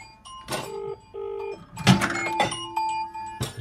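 Electronic tones chime in short repeated steps with clicks and knocks in between, a Samsung Galaxy A3 phone ringing on loudspeaker nearby.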